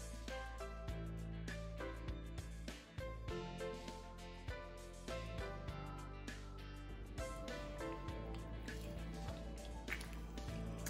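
Dough is squeezed by hand in water to wash out the gluten for homemade yellow lhaphing, giving a steady run of close wet squelches and drips with no talk.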